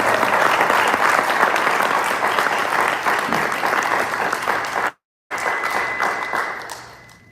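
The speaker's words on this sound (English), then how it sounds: "we should give him a round of applause" An audience at a religious book discussion gives a round of applause, a full, steady crowd clapping that briefly cuts out for a moment, then resumes and tapers off.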